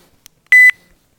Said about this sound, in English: Low beep.